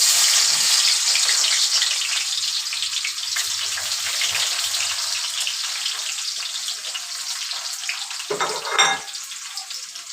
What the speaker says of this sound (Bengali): আমি পেঁয়াজ বেরেস্তাগুলো দিয়ে দেবো, কারণ পেঁয়াজগুলো ভাজতে একটু টাইম লাগবে